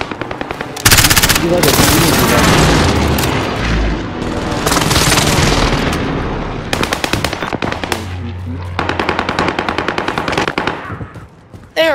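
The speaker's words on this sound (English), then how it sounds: "There's an airstrike on me!" An airstrike and gunfire in the shooter game Warzone: rapid machine-gun bursts and heavy booming impacts, loud and close, with a few spoken words.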